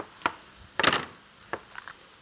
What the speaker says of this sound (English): Now I'm going to chop a little green pepper and put it in there.